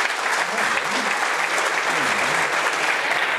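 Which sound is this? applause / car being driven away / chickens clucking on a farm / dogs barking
applause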